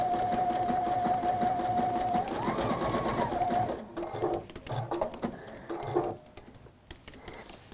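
Sewing machine stitching a Bishop's hat pouch made with hexiform English paper piecing: steady, close whirring rattle with a faint tonal hum, then slowing into short bursts of stitches and pauses.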